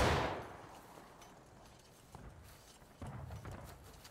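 Musket fire from infantry in a video game battle, with a loud volley at the start fading into scattered distant shots and a couple of later pops, with no voices.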